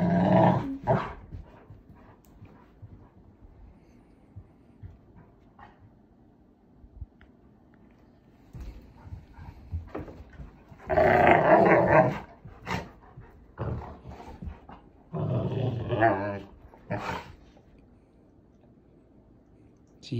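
Labrador retrievers growl and snarl in bursts while play wrestling, including a puppy, with scuffling and panting between louder rumbling spells; a person speaks briefly in the background.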